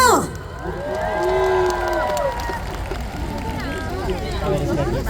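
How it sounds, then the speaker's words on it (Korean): A large outdoor crowd at the Squid Game parade finale in Seoul cheers and shouts, with raised voices and excited calls rising over a busy street hubbub. "여러분들의 박수와 함께 시작합니다"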